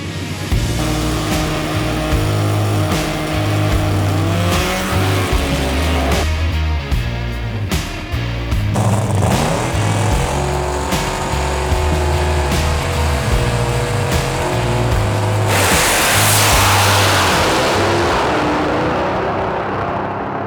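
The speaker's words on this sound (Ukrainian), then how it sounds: "А отут у нас вишиковується авто для того, щоб вже виїжджати на трек." Drag racing car at the NitrOlympX event at Hockenheimring pulling up to the track, its engine roaring and revving loudly and continuously throughout, with a brighter rising surge near the end.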